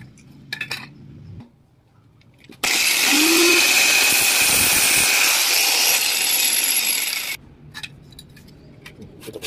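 A hacksaw cuts through the lid of a dud coconut's shell, a loud, steady rasping grind that lasts several seconds, with quieter scraping and handling clatter before and after.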